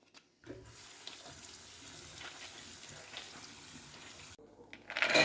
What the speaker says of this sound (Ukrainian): Зараз її промию під проточною водою